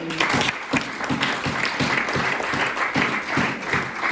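A church congregation at a Sunday worship service applauds steadily and fairly close, a continuous patter of many hands with a faint rhythmic pulse throughout.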